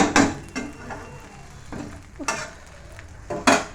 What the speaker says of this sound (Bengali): সন্ধ্যাবেলা একটু বানালাম চাউমিন কম তেল দিয়ে।